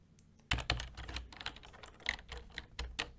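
Quick, irregular keystrokes clack on a computer keyboard while code is entered, bursts of close, crisp taps with short pauses between runs and no talking.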